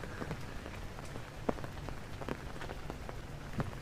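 Steady rain pattering on a surface nearby, with scattered louder drips landing close by.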